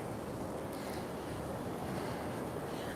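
Sea waves washing onto Cleveleys beach on an October morning, a steady broadband surf wash running continuously throughout, mixed with some wind noise on the microphone and no talking.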